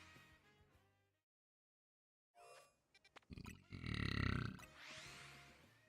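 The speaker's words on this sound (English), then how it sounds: "That was actually a crazy burp." A loud, drawn-out burp from a streamer during a long game stream, rising to a strong rumbling peak after a few short grunting sounds, heard alone and close.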